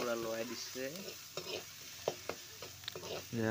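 Food fries in a pan with a soft sizzle while a spatula stirs and scrapes in short, irregular clicks, close up, with a faint voice in the background.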